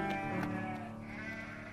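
A cartoon sheep bleats in an animated children's Bible story of David and Goliath: a couple of close, wavering, tonal bleats fill the short moment alone.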